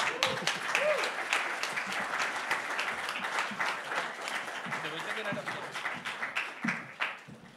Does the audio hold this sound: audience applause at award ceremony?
yes